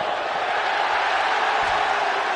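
A basketball arena crowd at an Iowa State versus Kansas college game roaring steadily in a broad continuous wash of cheering, loud and sustained throughout with no pause.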